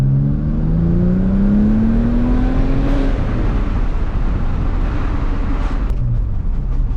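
A stripped-down Porsche 996 Turbo engine runs loud and close, its tone rising steadily as the car accelerates, then settling into a rough, steady drone while driving.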